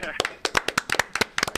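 A few people clap at an editorial desk show, producing sharp, uneven handclaps in irregular bursts, close to the microphone, with chatter around them.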